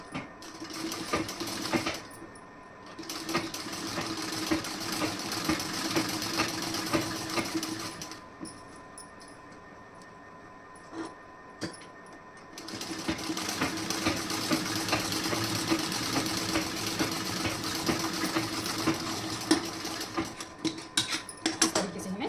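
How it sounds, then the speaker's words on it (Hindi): A sewing machine stitches a blouse seam in fast, continuous mechanical runs, stopping for a few seconds in between, close and loud, with no talking. "इस तरीके से आप रख के उसके बाद आप सिलाई लगा दीजिए"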